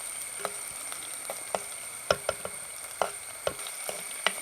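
Ginger frying in a pan for mango pickle, a steady soft sizzle broken by scattered sharp crackles and taps, close and without talk.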